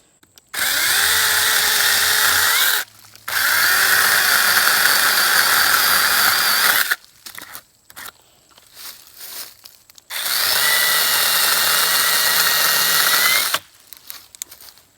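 A Sainlogic mini chainsaw cuts through a live maple in the woods. The motor whines loud and close in two long sustained bursts, with quieter idling and rustling between them and a short final rev at the end.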